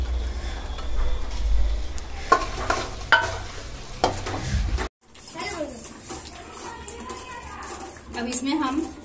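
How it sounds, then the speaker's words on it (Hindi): Khoya stirred into sizzling fried masala in a pan: a spoon scrapes and clatters against the pot in uneven strokes, with soft frying sizzle underneath. A person speaks over the cooking, and after a short break talk continues over quieter sizzling. "अब इसमें हम खोया ऐड करेंगे।"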